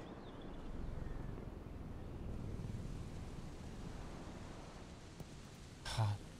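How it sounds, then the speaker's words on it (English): Steady wind and ambient rush on a golf course in the EA Sports PGA Tour video game, a broad continuous whoosh with a brief louder gust near the end. "And that wind's gusting all over the place."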